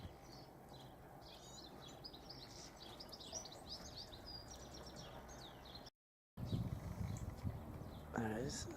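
A coal tit calls in an allotment garden, a run of quick, thin high chirps repeating over a low background rumble, briefly cut off, with a voice murmuring nearby.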